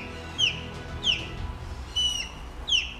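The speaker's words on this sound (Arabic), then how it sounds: "تتواصل هذه الطيور من خلال سلسلة من الصفارات الحادة المعروفة باسم أصوات الزقزقة" Osprey giving sharp whistling chirp calls, four clear high-pitched chirps spaced at a steady pace, each one alone and fairly close, with a faint background hiss.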